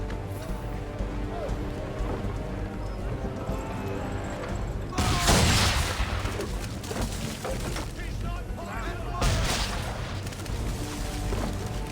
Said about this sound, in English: Now give the swivel guns a turn.